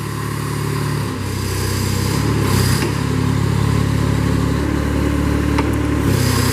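A Kubota engine on a 2009 Moffett M45P truck-mounted piggyback forklift runs steadily at idle, loud and close, a continuous mechanical drone with slight pitch shifts and faint clunks throughout.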